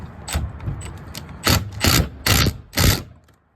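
Wrench working a cylinder head stud on a 1988 Kawasaki KX125 dirt bike: close metallic ratcheting clicks, softer at first, then four louder, evenly spaced bursts before falling quiet.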